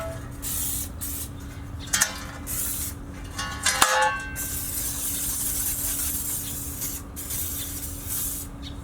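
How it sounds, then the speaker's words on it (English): An aerosol can spraying cooking oil into the ash pan of a Stumps Junior smoker, with a sustained hiss broken by short pauses and a few clanks near the start. "We'll spray the ash pan"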